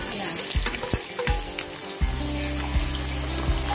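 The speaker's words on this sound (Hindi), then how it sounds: "अब इसके बाद फ्राई करेंगे प्याज।" Onions frying in hot oil for a jackfruit biryani give a loud, close, dense sizzle with spoon clatter and stirring knocks, and a steady hum runs underneath from midway on.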